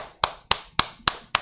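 Five sharp hand claps, evenly spaced and close, loud and isolated with no talk.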